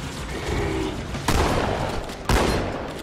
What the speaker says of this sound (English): Oop, walk out, frag grenade. Another frag grenade.